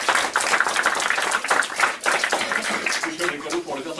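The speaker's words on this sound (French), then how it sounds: "qu'on peut applaudir également comme François" An audience at a Napoleonic heritage society gathering in Urcel claps steadily, with distinct individual claps audible, before the applause thins and a voice begins near the end.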